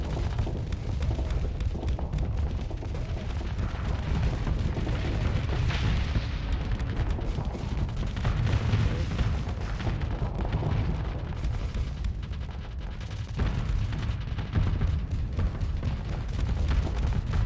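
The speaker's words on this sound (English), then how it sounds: "Go ahead and put our sabots on auto fire so they start firing now" Sabot guns on auto fire in a naval combat video game boom and rumble steadily, with heavy low blasts layered over one another in a dense, sustained barrage that does not let up.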